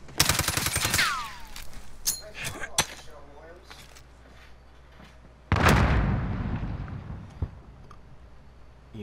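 Bursts of automatic gunfire from the video game Call of Duty: Modern Warfare crackle in rapid clusters, followed by scattered single shots and a heavy blast, with a voice calling out over the action.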